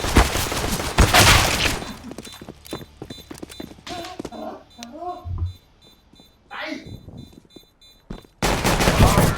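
Gunfire in CS:GO, sharp shots scattered through the middle of the stretch amid clattering game noise, with louder bursts at the start and end and voices talking throughout.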